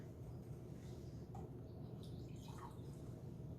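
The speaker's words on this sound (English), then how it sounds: "Pour this into a beaker." Vinegar is poured into a beaker with a faint, soft trickle and scattered drips over a low, steady room hum.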